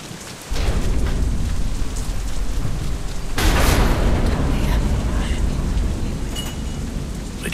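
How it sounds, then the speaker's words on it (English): A thunderstorm in the game Deadlight, with steady heavy rain pouring down and a loud swell of thunder rolling in about midway, continuing as a dense wash of rainfall throughout. "Storm."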